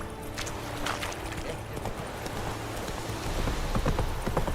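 Hooves clip-clop at a steady trot as a horse moves through The Witcher 3 video game, close and fairly loud over a soft ambient bed, with a voice speaking briefly.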